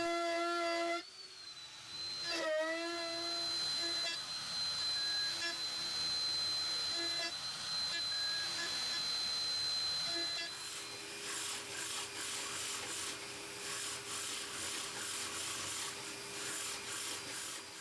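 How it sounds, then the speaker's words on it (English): A Forstner bit drills slowly into wood on a rotary module setup, a grinding, rasping cut with steady tonal whine, fairly quiet, then shifting to a rougher, busier scraping in the later part. "I use the Forstner bit to drill slowly its hole."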